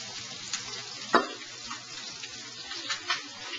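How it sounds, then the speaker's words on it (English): Fish searing in a pan while paella is being cooked, giving a steady soft sizzle with a few louder spits and clatters heard close up, without any talking. "while the fish is searing right here"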